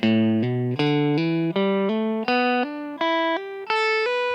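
Distorted electric guitar plays a lick with pull-offs, a descending run of sustained, ringing notes, each step a fresh pick followed by a quick pull-off, loud and close with no talking.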